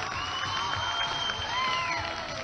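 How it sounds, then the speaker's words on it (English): A crowd at a logger sports competition applauds and cheers a competitor, a dense even wash of clapping with scattered whoops, steady and fairly loud throughout. "Give him a big round of applause."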